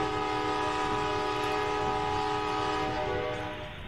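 A train from the Traincraft mod in the video game Minecraft sounds its horn in a long, steady, sustained chord over a rumbling background, loud and unbroken before fading slightly at the end.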